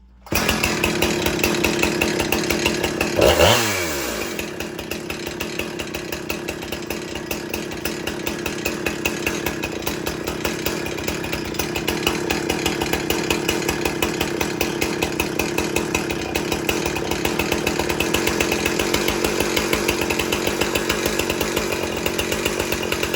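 A Husqvarna 455 Rancher chainsaw runs steadily up close, drops briefly in pitch as its idle is turned down, then settles into a loud, even, buzzing idle for the rest of the stretch with no voices.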